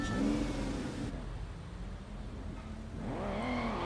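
A car engine accelerating in Sleeping Dogs, a driving and action video game: a steady mid-pitched motor that rises in pitch, settles to a hum, then climbs again as it revs up.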